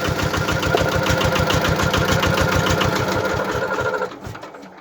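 A 600 W drill spins a homemade generator built from an old electric motor, giving a loud steady mechanical drone with rapid rhythmic pulsing that runs for about four seconds, then winds down abruptly near the end.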